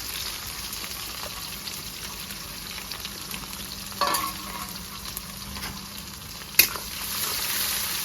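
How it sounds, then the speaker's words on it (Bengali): Chopped onions fry in hot oil with green chillies, dried red chillies and whole cumin, making a steady close sizzle with a couple of sharper pops and a brief stir. "দিয়ে দেবো কেটে রাখা পেঁয়াজ"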